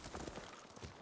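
Horse hooves in the samurai video game Ghost of Tsushima, a steady, muffled clip-clop of repeated hoof falls over a soft game ambience.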